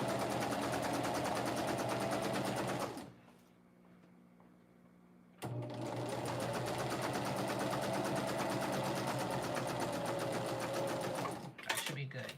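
A domestic sewing machine stitches a fabric tube in steady, whirring bursts, stopping for a couple of seconds of near silence before running again at an even pace, close and clear.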